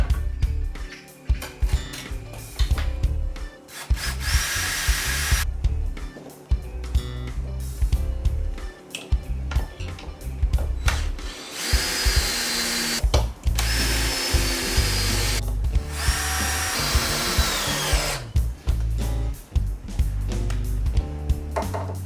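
Timber offcuts for decking noggins are cut with a power tool in loud, close bursts of whining motor and chewing wood, stopping and restarting several times over about twenty seconds.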